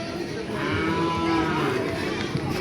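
Cattle at a livestock market on a rainy day, a low moo and animal sounds mixed with steady crowd noise, with people talking nearby.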